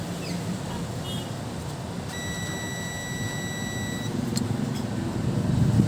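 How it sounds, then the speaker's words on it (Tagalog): A steady high-pitched electronic buzzer tone sounds from an amplifier with a stuck relay for about two seconds over a constant low background rumble, then cuts off. "May buzzer pa rin."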